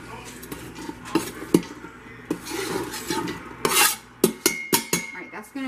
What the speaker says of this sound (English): maybe 10 minutes to saute, and we're going to brown them up just a little bit